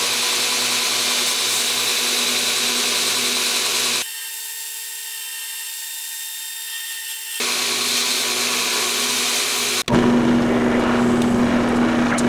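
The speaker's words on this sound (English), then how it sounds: "I'll take it to the drill press and drill through these holes and out this side" A drill press bores through the holes of a cracked knife handle scale and out the far side, giving a loud, steady whine that runs continuously, with a change in tone partway through and a rougher grinding stretch at the end.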